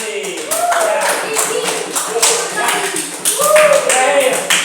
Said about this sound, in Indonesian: Tepuk tangan untuk Riki.